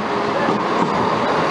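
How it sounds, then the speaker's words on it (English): A Chiltern Railways train pulls into a platform at Leamington Spa, giving a close, continuous rumble of wheels and carriages throughout the short moment. "1626 Chiltern Railway Service into Birmingham Snow Hill"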